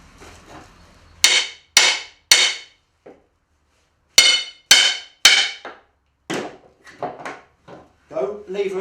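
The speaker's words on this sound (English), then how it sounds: "just lever slowly and let the curved action at the end of the wrecking bar almost do the work for you" A curved wrecking bar levers pallet wood boards apart, giving a series of sharp, loud cracks and knocks in two groups of three, followed by softer creaks and thuds, with someone talking faintly.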